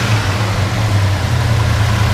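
A 1968 GMC 2500 farm truck's 396 big block V8 runs with a deep, steady, loud rumble, heard close up and alone without any talking.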